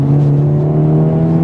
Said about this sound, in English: it sounds so good with that turbo sound and the exhaust